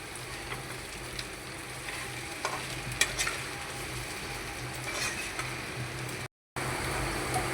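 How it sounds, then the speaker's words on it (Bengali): Potatoes and bitter gourd being stirred and sautéed in a pan for a curry, with steady scraping and clicking strokes over a continuous sizzle and a brief break near the end. "এখন কিছুক্ষণ নাড়াচাড়া করবো, আলু করলাগুলো কষিয়ে নিব।"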